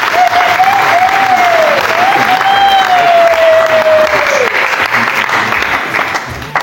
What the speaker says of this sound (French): je vous invite à acclamer pour le Seigneur